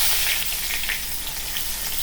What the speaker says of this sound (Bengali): ফোড়নটা একটুখানি ভালো করে ভেজে নেব